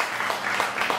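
A short burst of audience applause at a novel's launch event, moderately loud, scattered clapping lasting about a second.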